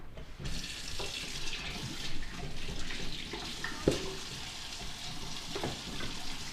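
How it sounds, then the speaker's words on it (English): Tap water runs steadily into a sink as hands are washed after handling raw beef ribs, with a soft splashing flow, one small knock midway and no voices. "I'm going to wash my hands now"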